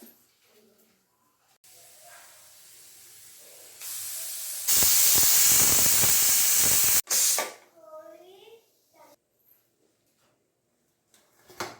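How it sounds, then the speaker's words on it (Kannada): A loud, steady hiss of steam bursts from a pressure cooker whistle while cooking mushroom gravy, lasting a couple of seconds, then cuts off abruptly before a voice begins speaking. "ಈಗ ಒಂದು ವಿಷಲ್ ಆಗಿದೆ"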